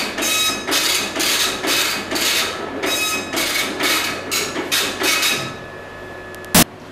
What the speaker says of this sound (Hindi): प्रिंट आउट शुरू हो जाएगा।